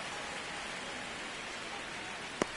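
Rain falling on a baseball field in MLB The Show, a steady soft wash of drops with one brief sharp tap near the end.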